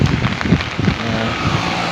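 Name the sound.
heavy rain during flooding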